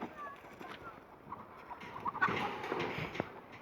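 Soft, scattered clucks from a Brahma hen, with a Brahma rooster's voice mixed in, fairly quiet against a rustling, noisy background in a chicken coop.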